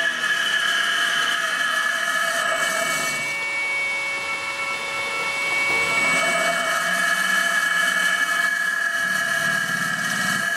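Electric motor driven by a variable frequency drive, its steady whine holding a strong tonal pitch with a constant mechanical hum, dipping briefly in level midway before returning to full loudness; no voices.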